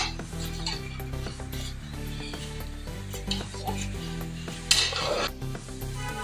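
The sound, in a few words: stirring mixed vegetable and chicken curry in pan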